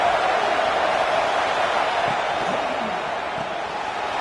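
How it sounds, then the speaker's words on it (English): A dense stadium roar rises from the crowd at an East Carolina versus Florida State college football game, a steady loud wash of cheering and noise that holds through the whole stretch. "This crowd is trying to inspire this defense to make a big red zone stop."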